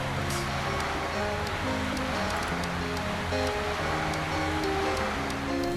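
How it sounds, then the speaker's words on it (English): Lake Michigan water at a private sandy beach in Norton Shores, a steady wash of small waves and surf mixed with wind, continuous and moderately loud with no talking. "if I stop talking, you can actually hear the water."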